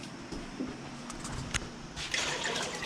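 Water pours steadily over pickled quail eggs with a broad rushing splash, swelling louder near the end, close by and without talk.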